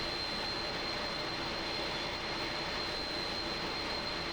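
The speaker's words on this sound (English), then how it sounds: "But my beloved MD-11, we go again. It sounds great, this as well." MD-11 airliner jet engines in Microsoft Flight Simulator 2020, a steady, continuous broadband roar with a faint high whine, holding level throughout with no talking.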